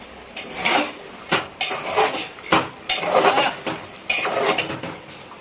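Mutton stirred in a cooking pot makes a series of loud, repeated scraping and clattering strokes of the spoon against the metal, in an uneven rhythm.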